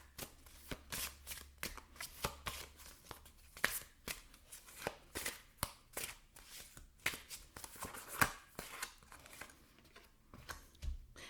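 Tarot and oracle cards shuffled by hand, a steady run of soft papery riffles and flicks repeating throughout, close and quiet with no talking.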